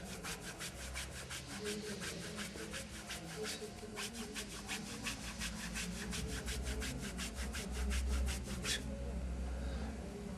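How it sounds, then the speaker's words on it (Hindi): Hands briskly rubbing the shoulder area of a patient lying down during a massage, a fast even series of rasping strokes that runs for most of the clip and then stops, faint and close. "जहां से शोल्डर शुरू होता है और जहां शोल्डर खत्म होता है वहीं घिसाई करनी है हाथों से इस तरह।"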